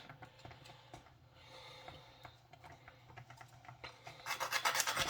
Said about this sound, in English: my little vanilla, my little nutmeg grater